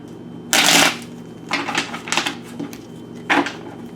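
Tarot cards being shuffled by hand in three or four brisk, crisp riffling bursts with short quiet gaps between, close and clear, with no talking.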